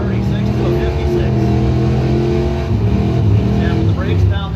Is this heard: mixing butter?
no